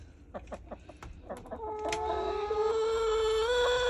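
A chicken being picked up at a backyard coop in Melbourne clucks in a quick series of short, sharp notes, then lets out a long drawn-out call that carries on steadily.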